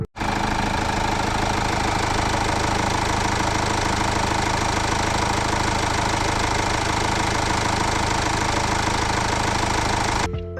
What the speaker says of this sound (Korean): 상태 좋은 엔진음은 원본으로 들려드리겠습니다